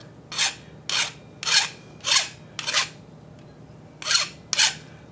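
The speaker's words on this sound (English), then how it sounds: "It's going to take more filing than it looks because, like I say, it gives it a round head." Hand filing rounds the corners of a metal part for a 1930 Briggs FH engine restoration, seven distinct rasping strokes in a steady rhythm, close and loud with no talk.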